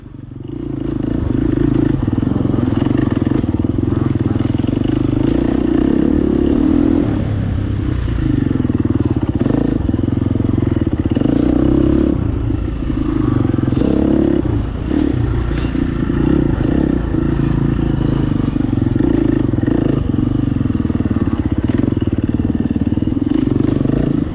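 Two-stroke enduro dirt bike ridden along a winding forest trail at a family enduro event, the engine droning loud and steady throughout with revving surges, clattering and scraping of the bike over rough ground.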